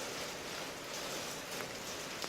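Rain falling on a hill, a dense, steady hiss of drops with faint scattered patters, continuous and close.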